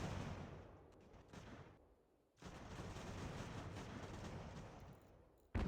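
Cannon artillery fire in the Ultimate General: American Revolution strategy game, a dense continuous barrage of booming and crackling gunfire that briefly drops away before surging back loud.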